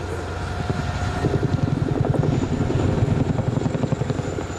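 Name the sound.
Boeing Chinook HC4A helicopter flying display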